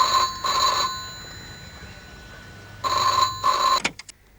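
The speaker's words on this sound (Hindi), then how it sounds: "सुशांत देखो तो किसका फोन है।" A telephone rings indoors in two loud electronic bursts separated by a pause, then cuts off abruptly as if picked up.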